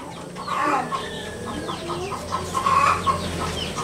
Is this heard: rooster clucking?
yes